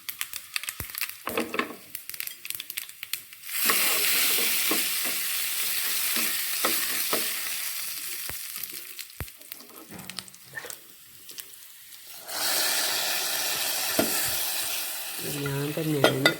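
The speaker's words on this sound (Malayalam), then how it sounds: "കടുക് പൊട്ടുന്നുണ്ട്." Mustard seeds splutter in hot oil in a pan for a Kerala clam curry, with the heat switched off. Loud, dense sizzling comes with sharp pops and crackles, eases briefly near the middle, then surges again.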